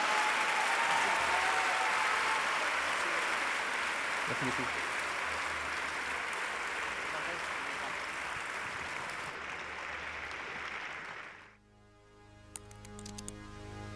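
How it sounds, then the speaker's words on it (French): Audience applauding after a debate between Nicolas Bay and Karl Olive, long loud clapping that fades out near the end, followed by a brief spoken thank-you. "Je pense qu'on peut les applaudir très fort."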